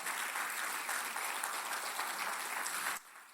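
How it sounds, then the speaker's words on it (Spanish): A church congregation applauds in a dense, even burst of clapping that lasts about three seconds and then suddenly drops to a faint tail. "¿Cuánto le da un fuerte aplauso al Señor?"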